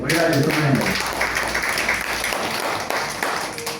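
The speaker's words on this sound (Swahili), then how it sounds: "Piga Yesu makofi mazuri." A church congregation claps hands together in a steady, dense patter of applause that carries on throughout, with a voice speaking over the start.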